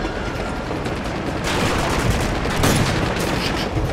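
Sustained turret machine-gun fire in Uncharted 2, a thick unbroken stream of rapid shots that swells into louder bursts midway and again near the end, close and without voices.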